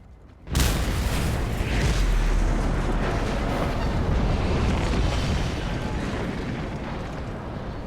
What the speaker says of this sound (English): the explosions in this game are probably some of the best I've seen